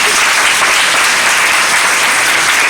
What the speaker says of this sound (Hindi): इनके लिए तालियां बजाएं जो बच्चे मैट्रिक में पास हैं